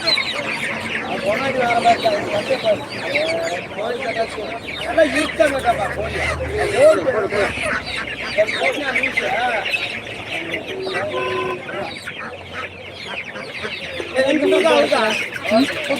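Chickens cluck and squawk continuously at a market, a dense layer of bird calls close by, mixed with people talking and background crowd noise throughout.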